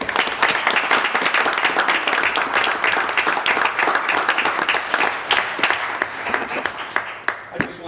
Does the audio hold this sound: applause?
yes